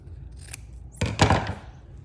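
Scissors snip away excess fabric seam allowance on a sewn backpack: a faint early snip, then a louder close cluster of crisp cutting chops lasting about half a second, with no talking.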